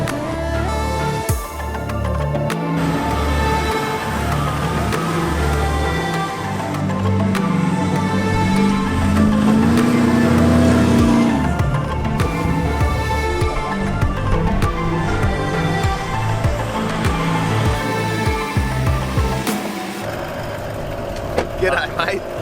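A lifted 2021 Toyota Land Cruiser 200 series on 35-inch tyres and King suspension drives along a beach, its engine a loud, steady drone that rises in pitch midway, with voices talking over it throughout.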